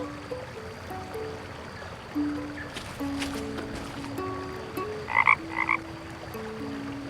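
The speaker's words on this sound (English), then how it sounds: "I wonder how he can hear that frog toy from here." A few short croaks from a frog toy in the video game The Night of the Rabbit stand out over steady water-like background noise and faint tonal game sounds, close and fairly loud, with no talking.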